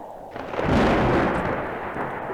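A deep, rumbling explosion in the Roblox game Natural Disaster Survival bursts out and rolls on with a long, noisy decay, loud and close, with no voices.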